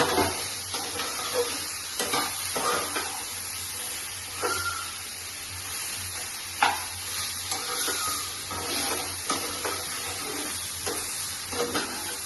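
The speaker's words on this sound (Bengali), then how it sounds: "এবার পেঁয়াজটা একটু ভাজা হোক, হালকা একটু লালচে ভাব হলে পরে তারপরে আমি ঝিঙেগুলো দিয়ে দেব।" Chopped onion and ridge gourd fry in a pan with a constant close sizzle and hiss, broken by occasional clicks and scrapes of stirring against the pan.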